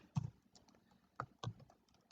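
A few sparse keystrokes on a computer keyboard while an email is typed, coming as isolated clicks and short bursts at irregular intervals, fairly close and quiet, with no talking.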